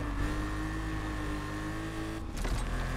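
RSR car driving in the video game Need for Speed Unbound, a loud steady engine drone with a brief rev change near the end, heard alone without talk.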